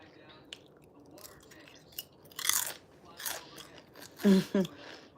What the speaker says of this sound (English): Now I'm having a little snack bag with potato chips and Doritos.